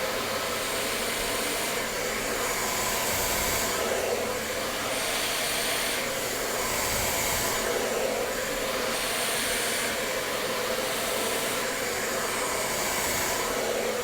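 A hair dryer runs continuously at close range while hair is blow-dried with a brush, giving a loud, steady rushing whoosh with slight swells as the airflow shifts, and no talking.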